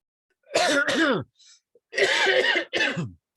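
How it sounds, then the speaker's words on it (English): A man in a coughing fit, several harsh, close coughs and throat-clearing bursts in two clusters separated by a short pause, loud and alone. "You hit record while I was in the middle of a coughing fit"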